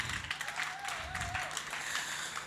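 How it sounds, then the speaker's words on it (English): Audience applause at a poetry organization's event, moderately faint and steady, with a voice and a faint tone sounding over the clapping. "please clap hands for Gwanele Ntuli who was here"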